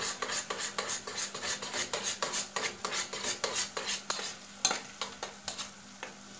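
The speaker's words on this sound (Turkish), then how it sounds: "İyice karıştırıyoruz" A spoon stirs an onion, tomato paste and egg mixture in a frying pan, making steady, rhythmic scraping strokes about twice a second over a constant close sizzle, with no talking.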